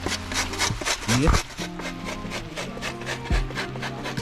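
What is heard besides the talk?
grating coconut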